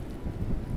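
Wind roars through snowy woods in a blizzard, a steady low rumbling gust that stays close and fairly loud for under a second with no voices.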